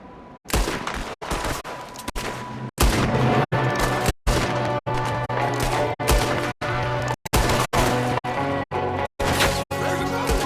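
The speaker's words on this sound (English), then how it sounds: "There's another one shooting from the window." Rapid loud gunshots in Red Dead Redemption form a dense, uneven volley of sharp cracks and booms with brief gaps between them, close and dominant throughout.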